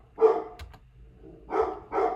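A pet dog indoors barks three times, apparently at a delivery, with a gap after the first bark and the last two close together, moderately near and fairly loud.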